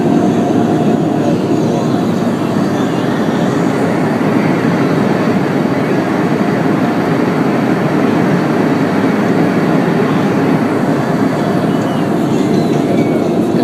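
Airplane cabin noise on a flight from Milan to Zurich over the Alps, a loud steady broadband roar with no breaks throughout.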